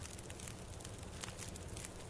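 A campfire crackles in The Long Dark, a steady, quiet bed of soft pops and hiss that carries on with no talking.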